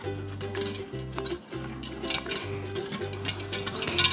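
Mac and cheese sauce being stirred in a pot, a steady low hum with repeated scraping and clinking of a utensil against the pot, close and fairly quiet, no talking.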